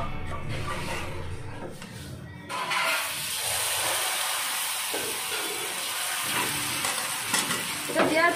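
Batter frying in a very small amount of oil on a tawa, a soft hissing sizzle that swells after a quieter start and continues steadily, with light scraping near the end and no talk.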